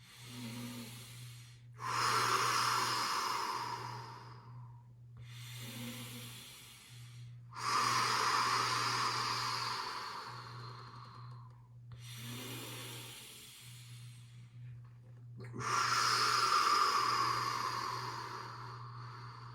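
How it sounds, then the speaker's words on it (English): Slow, deep yoga breaths during a mountain yin yoga class, four long airy inhale-exhale cycles at an even unhurried pace, close and moderately loud over a steady low hum. "10 deep breaths."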